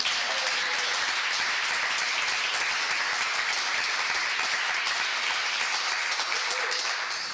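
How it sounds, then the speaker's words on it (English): A crowd at a mayor's news conference applauding steadily, dense clapping that holds at an even level throughout without pause. "You can clap right there."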